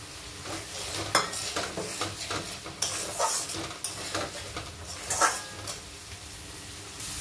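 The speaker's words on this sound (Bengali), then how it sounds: "ভাজা আলুটাকে দিয়ে ভালো করে মশলার সঙ্গে কষে নেব।" Fried potatoes are stirred into spice masala in a pan with repeated scraping and clattering spoon strokes over a steady sizzle, irregular and close by, with no talking.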